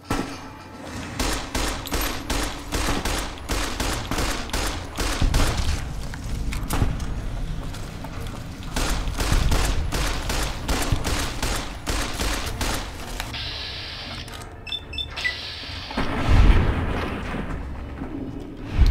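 Gunfire in the post-apocalyptic game Fallout: New Vegas, set in the REPCONN facility while fighting ghouls. A loud, sustained barrage of rapid shots and blasts runs nearly throughout, with a heavier boom close to the end.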